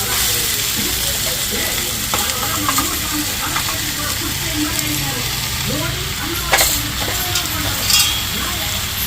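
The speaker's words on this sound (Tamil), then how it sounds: "மஷ்ரூம் போட்டு நல்லா கிண்டிக்கலாம்." Mushrooms fry in a pan with tomato and turmeric, with a steady sizzle and repeated scraping and clacking stirring strokes, close up.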